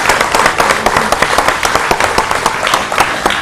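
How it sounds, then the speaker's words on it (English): A group of students claps steadily, with dense, sharp overlapping claps filling a room for a few seconds and no voices over them. "Students, give them a round of applause."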